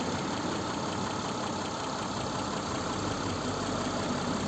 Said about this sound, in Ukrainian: Ось робота двигуна, сухо, немито.